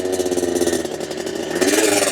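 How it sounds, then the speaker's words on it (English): A Honda motorcycle engine revving while parked to clear carbon off its spark plug, a steady close-up buzzing drone that rises in pitch and swells louder near the end. "I always kind of let the engine rev up to get all that carbon off of the plug"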